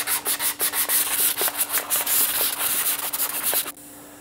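A wooden guitar neck is sanded shoe-shine style with a strip of 180 grit sandpaper, a fast rhythmic rasping back and forth, close and loud, stopping abruptly near the end.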